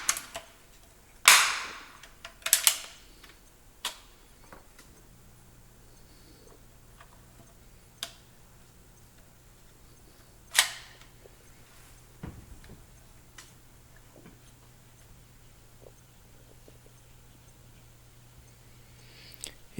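Crosman 760 Pumpmaster air rifle firing pellets at about 500 feet per second: a few sharp, isolated cracks spaced seconds apart, mostly moderate and near, over a quiet outdoor background with a faint low hum.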